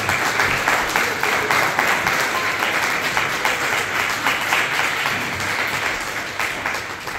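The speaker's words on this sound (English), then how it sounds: "So please give them all a round of applause." An audience applauds a Carnatic music group performing Pancharathna renditions, with dense, steady clapping that holds throughout and thins slightly toward the end.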